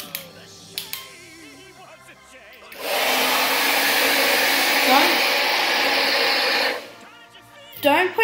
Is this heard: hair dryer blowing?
yes